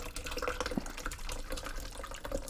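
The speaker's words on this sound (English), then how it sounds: "I'm pouring my tango into my fucking G-Fuel cup" Tango soft drink poured into a G-Fuel cup, a steady fizzy trickling and splashing that runs close and fairly soft for a couple of seconds with no talk.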